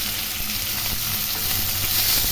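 A large onion sautéing in a pan gives a soft, continuous sizzle at moderate level, with faint stirring ticks underneath.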